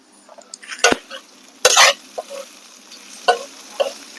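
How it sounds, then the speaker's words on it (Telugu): Snake gourd pieces frying in a pan being stirred, a few sharp scraping stirs and sizzling bursts over a quiet background, with short pauses between strokes. "వేసుకున్నాక ముక్కల్ని బాగా కలుపుకొని మూత పెట్టుకొని మగ్గించుకోవాలి."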